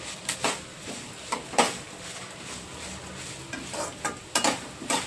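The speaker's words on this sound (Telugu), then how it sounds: "జాగ్రత్తగా నిదానంగా సిమ్లో పెట్టి వేయించుకోండి" Mint chutney ingredients fry slowly over a low flame, giving a soft, steady sizzle broken by a few sharp spoon scrapes and clinks against the pan.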